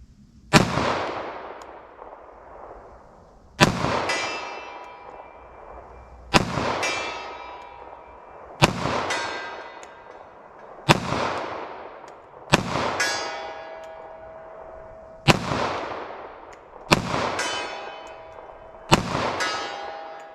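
Pistol firing .45 ACP+P ammunition at a range, eight loud sharp shots spaced a couple of seconds apart, each with a ringing metallic tail, no talking.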